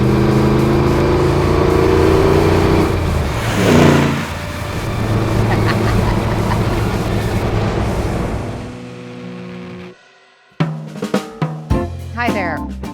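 A 1966 Jeep Super Wagoneer with modern drivetrain and suspension drives along, its engine droning and rising under a voice, then cutting to quiet before a few sharp bursts near the end.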